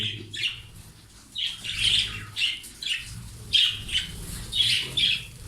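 Crested birds in a breeding colony give repeated bursts of high chirps and squawks, close and fairly loud, with short pauses between calls and no talking.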